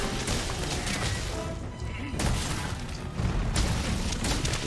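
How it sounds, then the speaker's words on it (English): A monster blown up in Monster Hunter World, a series of heavy booming explosions and crashing impacts in loud bursts, with a voice faintly in the mix. "Exploded him so many times he has to be weak to the blast"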